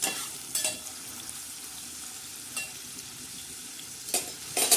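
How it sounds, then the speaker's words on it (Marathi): Onions and tomatoes sauté in a pan for methi bhaji, a fenugreek curry with peanuts, giving a steady soft sizzle broken by a few brief stirring scrapes, close and alone. "आता आपला कांदा आणि टमाटे छान असे परतत आहेत"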